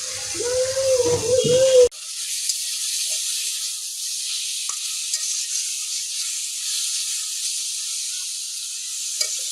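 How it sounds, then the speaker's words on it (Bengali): Leafy greens hit hot oil with garlic and green chillies over a wood fire, a sudden sharp sizzle that settles into a steady close hiss after a brief low sound at the start. "শাক তেলে দেওয়া হয়ে গেছে, রসুন কাঁচামরিচ সবই দেওয়া হয়ে গেল।"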